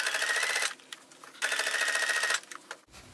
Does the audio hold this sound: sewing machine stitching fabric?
yes